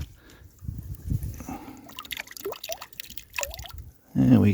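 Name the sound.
rinsing a small bottle in water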